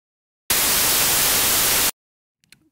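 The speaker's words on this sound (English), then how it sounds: "make sure white noise is selected" A loud, flat hiss of white noise starts abruptly, holds steady for about a second and a half, then cuts off, followed by a few faint clicks.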